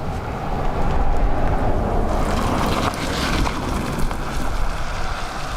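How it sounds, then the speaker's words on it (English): A Pegasus Airlines aircraft roars at Dublin Airport in wet, windy weather, a steady broadband rumble with gusty wind noise over the microphone and no talk. "That noise is the Pegasus."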